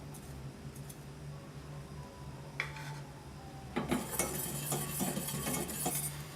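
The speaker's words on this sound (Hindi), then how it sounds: "विस्क के साथ अच्छी तरह मिक्स करेंगे ताकि इसमें कोई लम्स ना बने।" A whisk clinks and scrapes against a metal pan while chocolate sauce cooks over medium heat, faint at first, then a busier run of quick rhythmic taps and scraping in the second half.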